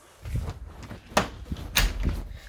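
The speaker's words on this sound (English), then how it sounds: "just wanted to close the door because it's pretty loud" A door is closed indoors: close, short knocks and rattles of handling build to two sharp thuds as it swings shut and latches, with soft low rumble between them.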